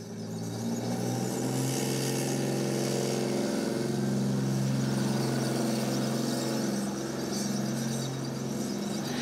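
A Leopard 2 battle tank of 1,500 horsepower and over 60 tons drives at an armored brigade's arms show, its engine a loud, steady roar that holds for the whole stretch without a break.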